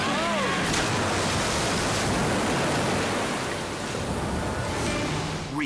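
Big ocean surf crashes with a continuous loud roar of breaking waves and churning white water, steady throughout with a slight dip near the end.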